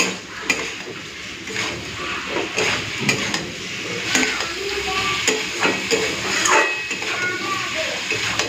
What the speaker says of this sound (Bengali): এরপর দিয়ে দিচ্ছি চিংড়ি ভাজা, আলু ভাজা। এটাকে দিয়ে 2-4 মিনিট খালি কষে নেব